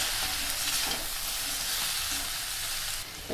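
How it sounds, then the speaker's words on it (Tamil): Drumstick fry with spices and salt being stirred in a pan on the stove, a steady broadband sizzle with scraping of the spoon, continuous and fairly close, no voices. "சேர்த்துட்டு எல்லாத்தையும் கலந்து விட்டுடலாம்."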